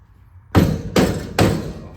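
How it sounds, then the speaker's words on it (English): A rubber mallet knocks three times on a metal rear gate to nudge it into alignment before drilling, each blow a loud, close thud with a short ringing tail, evenly spaced about half a second apart. "Do you have that rubber hammer, Coop?"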